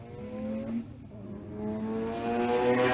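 At a big drag-and-drive event, a 1989 Trans Am and an RX-7 run side by side at the drag strip. Engines hum and rise into a steady, building roar heard from a distance, with no talk.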